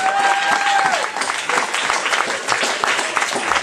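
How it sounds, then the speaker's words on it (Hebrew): Audience applause at a Purim evening event, a dense burst of clapping from a crowd, loud and close, with a brief tonal whistle or feedback at the start. "מחיאות כפיים, חבר'ה!"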